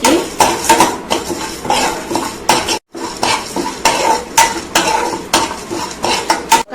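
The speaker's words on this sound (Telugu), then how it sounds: "కొద్దిగా మెంతులు, జీలకర్ర కొంచెం, ఇవి వేసుకుందామండి బాగా కలర్ వచ్చే వరకు." Fenugreek and cumin seeds dry-roasting in a pan while a spatula stirs them. Loud, rhythmic scraping and metallic clinks continue throughout, broken by one brief silent gap partway through.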